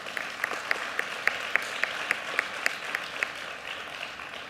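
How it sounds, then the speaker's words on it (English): An audience at an International Women's Day assembly applauds, giving a fairly quiet, steady round of clapping with individual claps popping out in a regular rhythm. "Let's have a round of applause for that."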